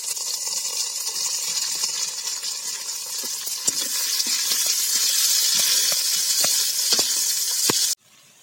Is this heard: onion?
yes